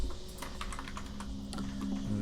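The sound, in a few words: typing a character name on a computer keyboard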